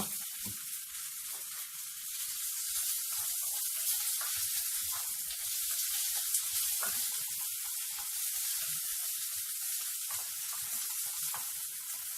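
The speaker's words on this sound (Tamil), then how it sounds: "இப்போது இதில் வந்து அதில் இருக்கிற மிச்ச எண்ணெயிலேயே கொஞ்சம் கருவேப்பிலை போடுறேன்." Curry leaves sizzle in leftover frying oil from fried fish, a steady, close hiss and crackle that runs on its own throughout with no voices over it.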